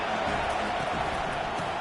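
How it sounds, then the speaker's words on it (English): A college football stadium crowd rises in a loud, sustained roar of cheering, a dense wash of noise filling the whole stretch. "This crowd rising up, sensing that its defense needs some help."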